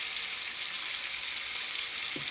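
Chicken with whisked sour yogurt sizzles and fries while being sautéed in a pan for chicken kosha, a steady close hiss throughout with no talking.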